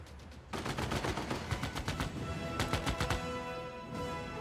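Rapid bursts of artillery and gunfire from a Civilization VI battle, sharp repeated blasts in quick succession that keep rolling over several seconds at a steady, loud level.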